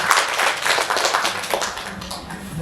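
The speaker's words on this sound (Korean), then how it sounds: "박수 한번 쳐주세요" Audience at an apartment redevelopment briefing clapping after a quiz prize is handed out: a dense patter of many hands, fairly loud and continuous, thinning slightly toward the end.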